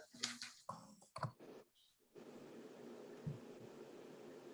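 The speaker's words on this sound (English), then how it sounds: "I'm typing mine into the chat box right now." A few quick irregular clicks of typing on a computer keyboard into a chat box during an online workshop, followed by a steady soft hiss of room noise.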